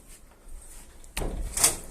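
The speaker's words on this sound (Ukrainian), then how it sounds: "Тут тільки відкриваються двері." A door being opened in a shed with a slate roof where pumpkin seeds are drying on carpets: a faint, quiet stretch, then a sudden broadband clunk and rustle as it swings open, with a brief bright creak or scrape near the end.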